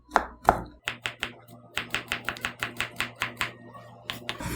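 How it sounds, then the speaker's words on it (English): A knife slices an onion on a cutting board for Korean grilled patties. About fifteen crisp, evenly spaced chops come close and clear in a quick rhythm, with no talking. "you slice this onion"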